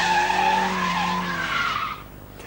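Tyres squeal loudly as a 1991 BMW E36 318i rear-wheel-drive saloon power slides, a sustained tonal screech that wavers in pitch for about two seconds before cutting off.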